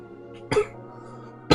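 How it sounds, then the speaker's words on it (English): Two short, sharp coughs about a second apart, close and fairly loud, over a low steady background hum. "Now, excuse me, I'm gonna cough real quick."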